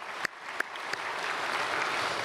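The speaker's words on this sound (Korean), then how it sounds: "우리 크게 박수로 환영하도록 하겠습니다." A church congregation at a Sunday worship service applauds to welcome newcomers, a steady wash of clapping in a large hall heard at moderate distance, with a few sharper individual claps standing out near the start.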